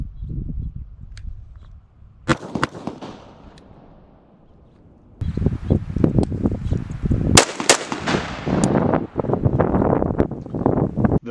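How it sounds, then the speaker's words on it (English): A rifle fired in a two-shot double tap drill from a low ready position, with two sharp cracks in quick succession, then gusty wind noise and outdoor rumble. "you are going to bring the rifle up on target, and you are going to fire 2 shots."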